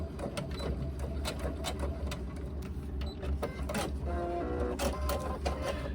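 A sewing machine stitches the top layer of a laptop bag to foam, a close, continuous mechanical whir with rapid rhythmic needle chatter and occasional clicks throughout.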